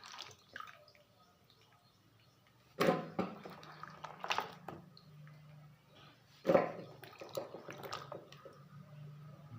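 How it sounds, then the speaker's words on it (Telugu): Pumpkin pieces are washed in a vessel of water, with soft splashes, drips and sloshing in a few bursts between quieter moments, close by and fairly faint. "గుమ్మడికాయ ముక్కల్ని ఇలా వాటర్లోకి వేసి కడుగుతున్నాను అన్నమాట."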